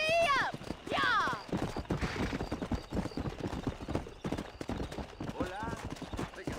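A horse clip-clops at a rapid rhythm while being ridden in the Western video game Red Dead Redemption, with several loud whinnies breaking through. Voices talk over the steady hoofbeats.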